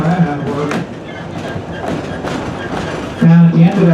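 A Pine Creek Railroad passenger train rolls along track through woods near a siding, with steady rumbling and clattering wheel noise, a few brief squeals, and a voice talking over the ride.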